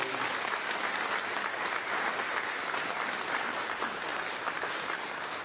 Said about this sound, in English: Let's give a round of applause to Carroll County's Sheriff's Honor Guard and the two students from Manchester Valley